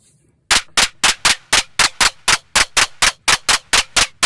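A Roland MC-101 plays an FM-synthesized clap, a sharp, bright hit repeated about fourteen times in an even, quick rhythm, loud and dry, after a brief quiet start.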